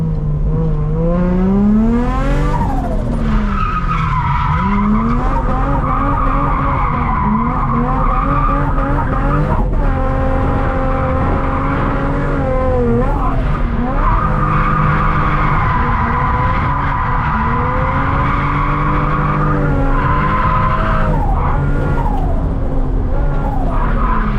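Tires squeal in long, wavering screeches as a turbocharged Lexus IS200 skids and slides around on private land, its engine revving loudly underneath throughout.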